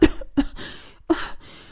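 Three sharp coughs in quick succession, close and fairly loud, with short breathy pauses between them.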